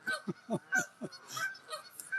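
Flock of geese honking loudly and close by, a rapid run of overlapping nasal honks in quick rhythmic succession with no pause.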